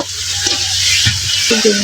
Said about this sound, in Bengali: তার জন্য আলুটি একটু ভাজা ভাজা করে নিতেছে